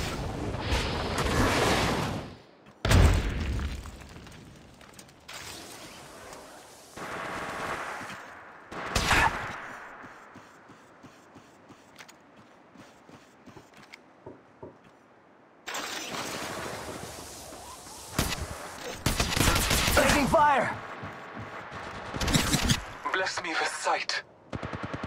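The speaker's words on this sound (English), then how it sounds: "Getting shot at." Gunfire from the mobile battle royale Apex Legends Mobile comes in loud bursts and rapid volleys, spaced by quieter gaps, with voices talking between the shots.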